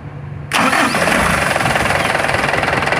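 A diesel vehicle engine cranks and fires after a fuel filter change, jumping abruptly from quiet to a loud, close, steady knocking idle with a rapid regular clatter.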